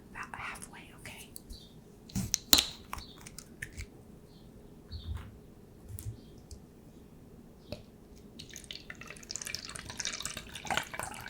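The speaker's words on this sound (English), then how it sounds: "We're gonna take our water and we're gonna fill it up about halfway, okay?" Water is poured into a glitter globe for an arts-and-crafts project, a soft trickling splash that builds near the end, amid whispering, faint clicks and handling noises up close.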